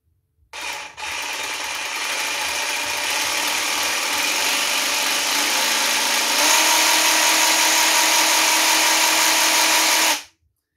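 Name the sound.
Evolution R90JGS 18v cordless jigsaw running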